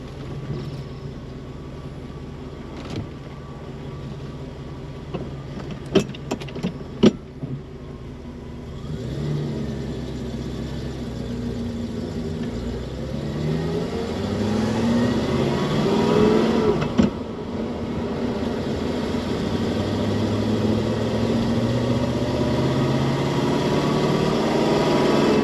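A Mercedes E420 with a swapped manual gearbox runs at idle and then while driving, with a steady low engine hum that slowly builds in pitch and loudness. A few sharp clicks come early on, and no one speaks.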